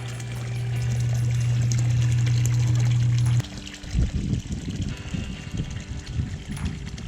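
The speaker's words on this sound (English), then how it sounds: "See it dripping out right there?" Water trickles and splashes out of a sawgrass island into a backyard swim pond, first as a steady pouring rush, then as irregular, close splashing and dribbling.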